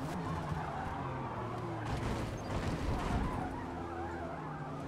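Race car tires skid and squeal under hard braking in a racing video game, with a Porsche field nearby, the engine roar and tire noise steady and loud throughout without speech.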